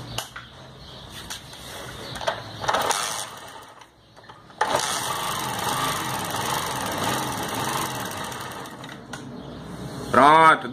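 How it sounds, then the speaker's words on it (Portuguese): A motorcycle engine running after a tappet valve adjustment, a steady mechanical idle with ticking, sewing-machine-like chatter that holds after a brief dip and restart, with a short voice near the end. "Vamos funcionar a moto, que ainda tem muita coisa pela frente."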